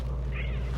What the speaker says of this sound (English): sorry, my cat's being stupid.